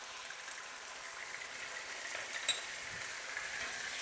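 Tofu frying in a hot pan as soy sauce is added, a soft, continuous hiss of sizzling at low volume, steady throughout with a small pop midway, no voices.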